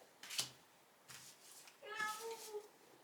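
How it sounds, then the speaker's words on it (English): A cat meows indoors, a few short faint calls followed by a longer higher wavering meow, fairly close and alone. "My cat's going crazy."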